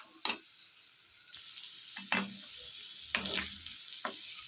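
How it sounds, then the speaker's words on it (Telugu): Chicken pieces coated in masala fry in a pan, a steady sizzle broken by several sharp scraping stirs that recur every second or so, close and moderately loud with no voices. "ఈ విధంగా మొత్తం కలుపుకుంటూ ముక్కలన్నీ బాగా వేగేంత వరకు వేయించుకోవాలి"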